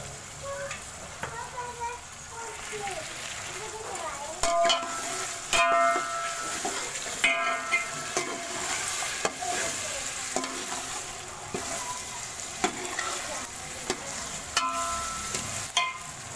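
Potatoes and peas sizzling in a pan while being stirred, with steady frying hiss and repeated scraping and clinking of a utensil against the pot, close and fairly loud throughout.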